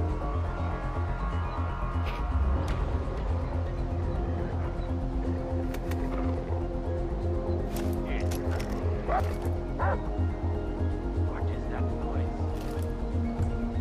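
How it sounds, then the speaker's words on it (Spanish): A dog in the video game Far Cry 4 barks repeatedly in short yips and bow-wows over a steady game ambience, with someone talking throughout. "Ah, no, está el pinche perro."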